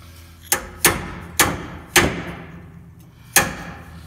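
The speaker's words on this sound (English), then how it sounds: "now he's beating on something with a ratchet" Someone bangs a ratchet against the transmission parts under a 1965 Chevrolet truck while removing its 350 Turbo transmission, giving five sharp metallic knocks at uneven intervals, close and loud.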